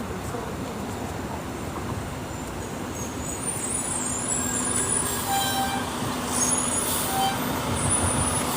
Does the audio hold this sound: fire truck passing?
yes